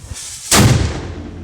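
A black powder culverin, an early firearm, goes off in one loud, booming blast close by, with a rumbling tail that slowly fades.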